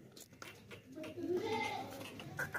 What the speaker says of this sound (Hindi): दो बच्चों वाली बकरी है